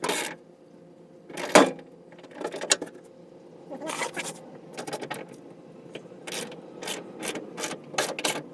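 Ratchet turning a deep socket on the gas tank bolts of a 1978 VW T2 camper bus, bursts of quick clicking at a moderate distance, broken by short pauses and a clunk, fairly quiet overall.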